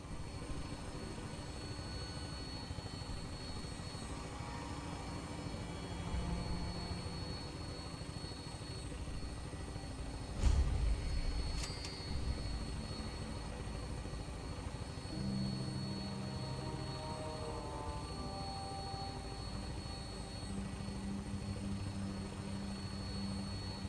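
A Vertibird aircraft in Fallout 4 drones steadily on final approach, its rotor and engine hum holding at an even level for the whole stretch, with a brief louder thump partway through and no talk.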